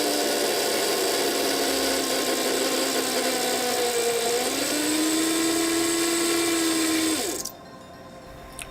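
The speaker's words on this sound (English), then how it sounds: "I don't have a drill press, so make sure when you drill nice and straight." Hand drill boring into a solid brass gate handle, a steady whining grind with a shifting pitch that runs continuously, then stops abruptly near the end.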